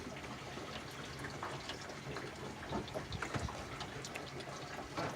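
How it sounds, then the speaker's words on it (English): Water rushes through newly installed PEX pipes feeding a house and a shower mixing valve, a faint, steady hissing flow with soft gurgles and ticks, heard alone. "It's water coming in, going into the house."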